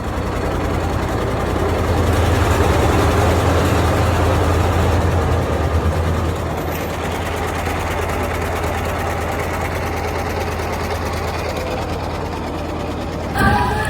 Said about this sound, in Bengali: নদীর শান্ত পরিবেশের মধ্যে ইঞ্জিনের আওয়াজ আর নদীর এই স্রোত